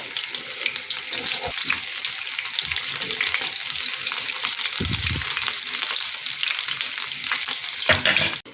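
Cottage cheese pancakes (oladky) frying in oil in a pan: a dense, steady, close sizzle throughout, broken by a few brief clatters of a utensil against the pan.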